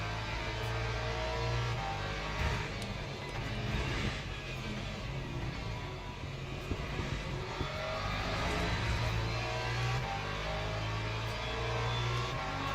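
Hypercars run in the Le Mans Ultimate racing game, giving a steady, loud engine drone and hum that holds throughout with slight swells as cars pass, no talking over it.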